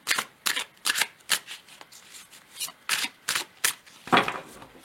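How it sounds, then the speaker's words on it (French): Tarot de Marseille cards being shuffled up close, a rhythmic series of crisp riffling bursts and soft slaps with short gaps between them, and no voice over the sound. "j'ai pris le tarot de Marseille pour préciser, mais d'abord, je vais tirer quelques cartes pour vous"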